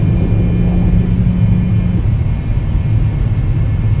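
A Cessna Citation business jet climbs out just after takeoff, heard as a steady, loud engine roar and rumble with a faint sustained whine, constant throughout and without speech.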